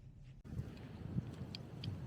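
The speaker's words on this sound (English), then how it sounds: "Pretty windy out here, so I'm glad I have the proper camera and microphone to try and muffle some of that wind noise" Low rumbling wind gusts buffet the microphone continuously outdoors on a drive to Lethbridge, a muffled roar with a few faint clicks and no voices.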